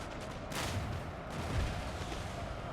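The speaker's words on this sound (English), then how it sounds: "Let loose a barrage." Cannon and musket fire from a battle in Napoleon: Total War, heard as faint, distant rumbling volleys that swell briefly and settle into a steady low roar.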